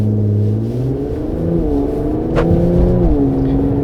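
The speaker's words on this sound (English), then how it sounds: "I love the sound of the new exhaust system." A 2020 Infiniti Q50 Red Sport 400 revs hard through an add-on aftermarket exhaust, a loud, close, continuous growl that rises and falls in pitch across several seconds with no talking.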